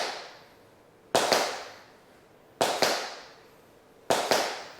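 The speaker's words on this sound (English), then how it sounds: "So it's a brush and a scuff at the same time," Tap shoes striking a hard floor in three separate double sounds, each a sharp brush quickly followed by a scuff, spaced about one and a half seconds apart, close and clear with no talking.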